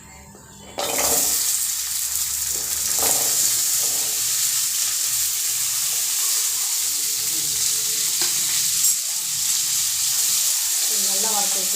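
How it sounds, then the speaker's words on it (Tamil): Onion and garlic hit hot oil in a pan for mutton kulambu, a sudden burst of sizzle after a brief quiet start, then a steady close frying hiss with occasional stirring clatter. "வெங்காயம், பூண்டு வணக்கணும். எண்ணெய் ஊற்றி வணக்கணும்."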